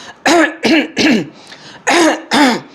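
A person clears their throat five times in quick, loud, voiced bursts, a rough rhythmic hacking close by.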